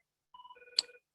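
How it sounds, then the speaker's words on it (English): Mobile phone ringtone going off during a convention talk, a brief electronic melody of quick tonal pulses with one sharp accent midway, clear and isolated against silence. "And my phone's ringing."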